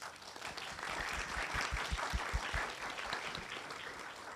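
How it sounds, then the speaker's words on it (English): An audience at an astronomy convention gives a round of applause after a panel event, dense clapping heard from a slight distance and fairly quiet, holding steady throughout. "let's give a big round of applause for everyone"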